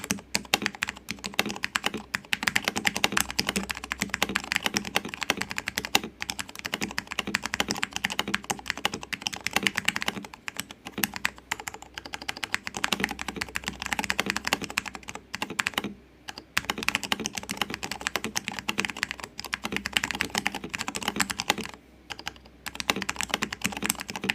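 Typing on a mechanical keyboard with Green Alps switches, a dense stream of close clicky keystrokes with short pauses, steady and fairly loud with no talk.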